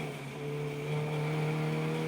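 Race cars run at a Donington Park trackday, a steady droning engine tone holding and slightly rising as the cars drive through Redgate corner.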